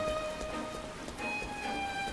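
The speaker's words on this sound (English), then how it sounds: "And it's still fucking raining." Steady in-game rain from the Final Fantasy XIV game world, a soft, continuous hiss of falling drops with faint tonal game music lines running over it, no voices.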